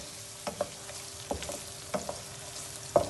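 Sliced onions with turmeric, salt and a splash of water bubble softly in a pan while a spoon scrapes and taps the metal in several separate strokes, no talking.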